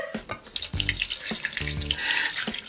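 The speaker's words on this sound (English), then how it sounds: "Warm water!" Warm tap water runs and splashes into a toy bath spa for dolls, a steady close gush with a few brief pauses and surges.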